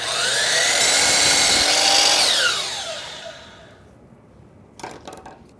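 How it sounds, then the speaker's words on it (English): A miter saw cutting a piece of 1x wood in half, a loud bright whine biting through the board for about two seconds, then spinning down and fading, followed by a few faint clunks. "I'm going to cut it in half and then flip those end for end"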